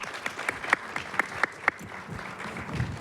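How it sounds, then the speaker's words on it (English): Scattered hand claps from an audience at an activist bootcamp gathering, a handful of sharp claps standing out over a low murmur before fading into quieter room noise. "So how about a round of applause for our friend Jim and Robin Lennon?"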